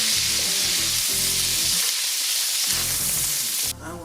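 Butter sauce with fresh cilantro sizzles steadily in a frying pan while salmon is pan-fried, a close, continuous hiss and crackle that cuts off sharply near the end.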